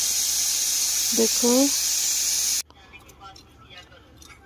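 A pressure cooker whistles on a stove while cooking matar curry, a loud steady hiss of releasing steam that cuts off abruptly, followed by a short spoken word and faint kitchen sounds.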